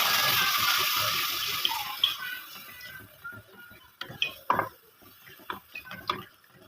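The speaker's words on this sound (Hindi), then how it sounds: "थोड़ा सा हम पानी ऐड कर देंगे ताकि हमारे मसाले जले नहीं।" Water is poured into a karahi of spices while a gourd karahi cooks, giving a brief rush of running water, then faint scattered clicks and small splashes.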